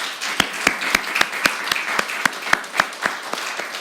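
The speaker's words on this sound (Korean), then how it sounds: "우리 하나님께 영광의 박수 올려드립시다." A church congregation claps together during a Sunday worship service, producing a rhythmic run of about a dozen sharp, evenly spaced claps over a soft wash of scattered applause, with no talking.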